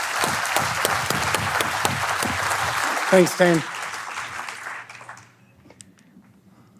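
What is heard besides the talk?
audience applause welcoming a speaker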